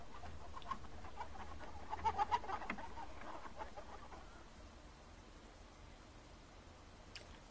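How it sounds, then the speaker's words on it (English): Battery hens kept in cages inside a dark shed, giving a few faint clucks and short calls, with a brief louder cluster of calls near the start, set against a steady low hum. "the vast majority of hens are confined in dark sheds"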